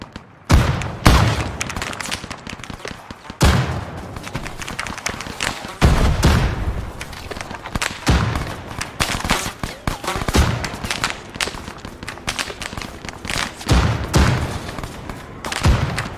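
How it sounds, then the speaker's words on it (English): Rapid bursts of machine-gun fire in a war scene, a dense fusillade rattling continuously with heavier booming hits every few seconds, loud and close throughout. "rapid gunfire"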